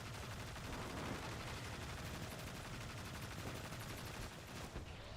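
Sniper gunfire and battle noise from the video game Destiny 2, a dense continuous wash of rapid shots and explosions filling the whole stretch at a steady, moderately quiet level.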